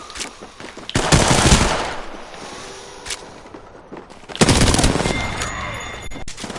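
Automatic weapons fire in bursts during an Apex Legends match, two loud rapid volleys separated by quieter gameplay noise and a few lone shots, close and sharp with no talk.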